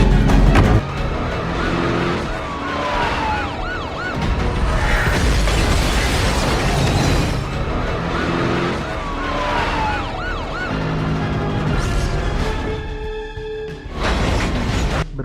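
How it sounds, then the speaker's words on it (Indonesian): A police car chase from the film Next: wailing sirens sweep up and down over car engine noise and mechanical clatter, loud and sustained, with a brief lull and more siren tones near the end. "si Chris membawa mobil orang lain yang menyebabkan dia malah dikejar oleh beberapa polisi"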